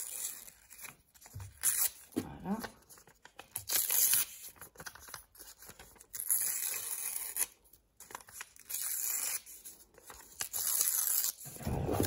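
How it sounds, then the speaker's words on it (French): A sheet of paper is torn by hand along its edges in a series of short, close ripping bursts separated by brief pauses, with light crinkling between tears and almost no talk. "on va déchirer les bords pour celui-ci"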